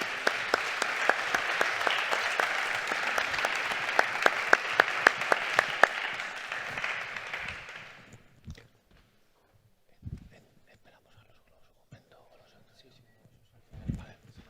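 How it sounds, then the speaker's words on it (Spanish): Audience applause closes a conference session on practical solutions for residential and tertiary buildings. Steady clapping fills about eight seconds, then dies away into a quiet room with a few scattered knocks and shuffles. "Pues un aplauso para todos vosotros."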